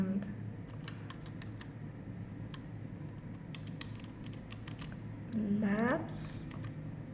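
Typing on a computer keyboard, sparse light key clicks scattered across a quiet room tone while someone talks, with a soft electronic tone near the end.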